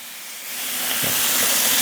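A pork chop hitting a hot pan and frying, a close, loud sizzle that swells from quiet into a steady, bright hiss with small spattering pops.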